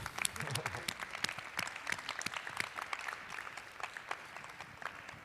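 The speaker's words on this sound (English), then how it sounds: "There was applause" Audience applause after a lecture by Marina Otero Verzier, scattered and fairly faint, with individual claps standing out in an irregular patter and a little murmuring underneath.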